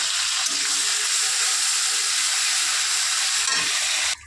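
Ginger and chili paste with tomato fry in hot oil, giving a loud, steady hiss and sizzle with faint crackles. The sizzle cuts off abruptly at the end.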